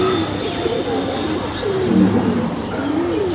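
Pigeons of a home loft, including tumbler-type dobaz birds, give a steady run of soft, low cooing calls with a few faint chirps. The birds sound close and fairly loud, with no talk over them.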